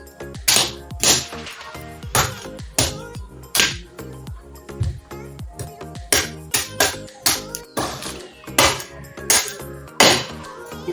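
A fresh young buko coconut struck repeatedly with a blunt tool outdoors in a rural province, loud, close, sharp whacks in irregular bursts with brief pauses between hits.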